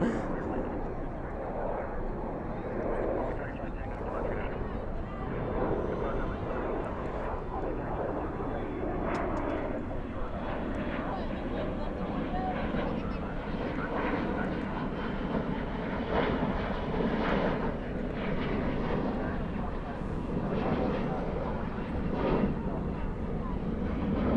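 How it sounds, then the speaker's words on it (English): An Air Canada Airbus A220 lines up and departs at DFW airport at night. A continuous broad engine roar and rumble holds fairly steady throughout, heard from a distance, with voices talking over it. "There's an Air Canada A220 lined up for departure there"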